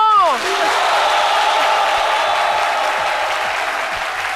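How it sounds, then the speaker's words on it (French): Studio audience on a French-language midday TV show applauds steadily and loudly for a guest, with cheering voices mixed in and a brief tonal sweep at the start. "Il mérite des applaudissements."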